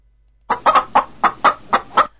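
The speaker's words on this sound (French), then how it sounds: "La poule." A hen clucks seven times in a steady rhythm, close and fairly loud, with nothing else in the background.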